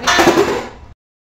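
Metal pots, pans and dishes clatter in a home kitchen, a single close, loud burst of clanking and scraping that lasts under a second and then cuts off.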